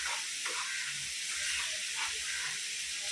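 Masala stuffing for pomfret fries in oil in a pan, a constant close sizzling hiss that fills the whole stretch without pause.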